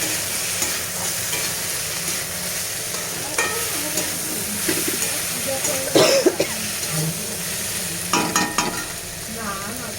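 Bitter gourd and pumpkin fry with onion in a pan: continuous sizzling, broken by clattering spatula stirs around the middle and again near the end, with a faint voice in the background.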